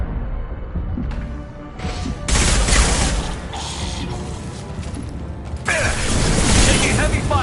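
Heavy gunfire and impacts in the sci-fi shooter Mass Effect 2 Legendary Edition, loud bursts of crashing, clattering shots and thuds in uneven waves, with voices speaking over the combat.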